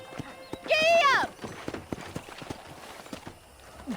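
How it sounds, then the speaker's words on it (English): A horse in the video game Red Dead Redemption, its hooves clip-clopping in a quick rhythm after a loud whinny near the start, heard close up with game ambience around it. "let's see if you can still ride a horse"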